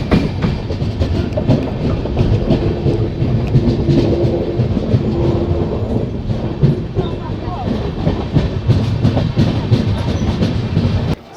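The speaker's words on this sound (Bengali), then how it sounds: "ট্রেন বিষ্ণুপুর স্টেশন পৌঁছে গেছে।" The Rupasi Bangla Express rolls into Bishnupur Junction with a loud, steady rumble and rhythmic wheel clatter that continues for several seconds before cutting off.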